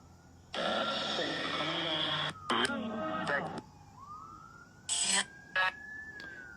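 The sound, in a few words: police siren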